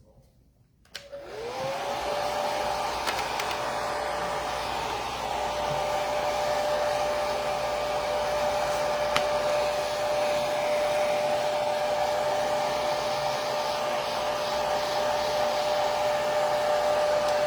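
A hair dryer blows steadily at close range, drying acrylic sealer on a decoupage egg, switching on after a second and then holding a constant whirring roar throughout.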